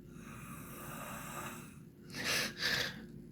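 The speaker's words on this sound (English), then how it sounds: "even with the snoring." A person snoring, heard as a faint continuous breathy drone followed by two louder rasping inhaled snores in quick succession near the end, quiet overall with no talking.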